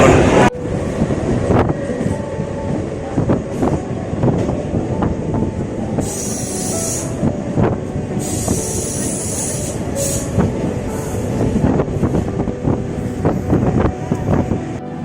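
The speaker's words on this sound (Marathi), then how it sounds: "ट्रेनच्या आवाजामुळे आवाज येणार नाही" A train rumbles along steadily near Panvel with rattling wheels, periodic clanks and bursts of high squealing, loud and close throughout, with wind buffeting the microphone.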